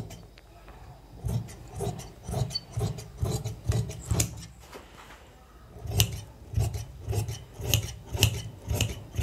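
Scissors cut fabric for a ladies' waistcoat with a steady, rhythmic series of quiet rasping snips, close by, pausing briefly before resuming.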